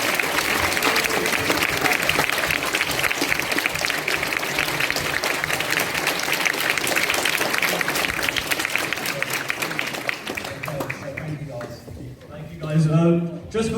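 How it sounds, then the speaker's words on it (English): A big audience at a film competition awards ceremony bursts into sustained applause, dense clapping holding steady for about ten seconds before thinning out, with voices and cheers rising near the end. "So a big round of applause."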